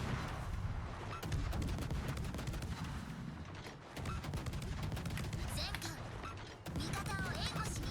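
Naval gunfire in the video game World of Warships during a Hawaii operation: dense rumbling barrages and repeated sharp shot cracks over continuous low battle noise, with a voice talking now and then.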